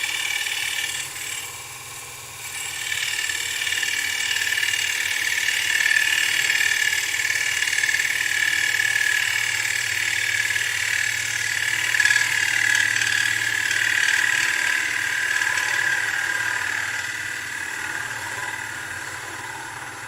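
A wood lathe spins a rippled sycamore bowl, giving a steady, close mechanical whir with a faint high tone from the turning work, running on without pause and with no talking.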